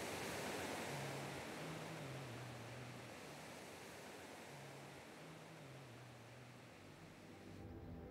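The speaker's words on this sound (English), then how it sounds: "you've got waves breaking right at the entrance of the passageway" Steady broadband rush of surf breaking continuously at a harbour entrance passage, loud and close, with a low engine-like hum running underneath.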